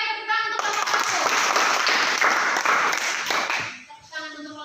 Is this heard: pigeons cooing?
no